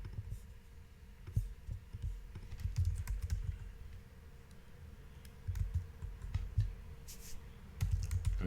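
Quiet, irregular keystrokes tap on a computer keyboard as commands are entered at a server terminal, with short clustered bursts of clicks over a low background hum.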